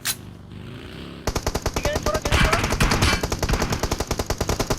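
Rapid automatic gunfire from a battle royale video game, a dense run of sharp loud bursts that starts after a quieter opening, with voices talking under the shots.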